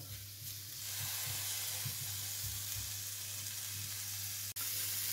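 Onion and cabbage fry in a pan with a steady, loud sizzle and occasional crackles; a brief clatter interrupts near the end.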